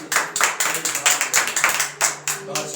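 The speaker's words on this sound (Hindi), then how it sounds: "जोरदार तालियां बजाओ जिंदा खुदा के लिए" A congregation at a Hindi-language Christian worship service claps together in a steady rhythm, roughly a dozen sharp claps in under three seconds, close and lively.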